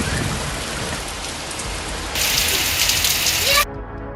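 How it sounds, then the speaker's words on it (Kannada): Moderate rain falls across Kolar district during a thunderstorm, a dense steady patter that swells louder partway through before cutting off abruptly near the end. "ಕೋಲಾರ ಜಿಲ್ಲೆಯಾದ್ಯಂತ ಗುಡುಗು ಸಹಿತ ಸಾಧಾರಣ ಮಳೆಯಾಗಿದೆ"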